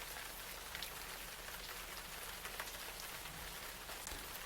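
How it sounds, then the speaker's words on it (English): Steady rain falls in the adventure game Gemini Rue, a continuous even hiss of drops spread across the whole stretch with no voices over it. "What are you doing out in the rain?"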